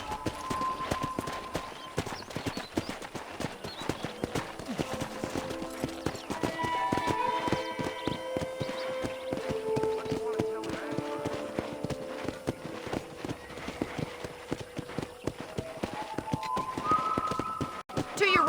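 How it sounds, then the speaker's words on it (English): Horse hooves clip-clop steadily while riding toward a ranch in the video game Red Dead Redemption, a continuous rhythmic patter under game music and spoken dialogue. "let's see if you can still ride a horse"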